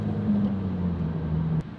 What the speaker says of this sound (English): Let's do a little acceleration